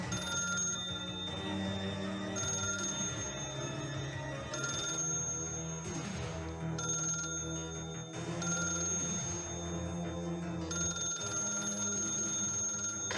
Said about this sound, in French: C'est le téléphone qui sonne plus.